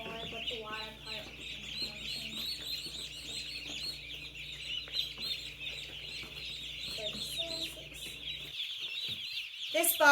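A box of baby meat chickens cheeping and chirping constantly at close range, a dense high chorus of many chicks, with people talking over them.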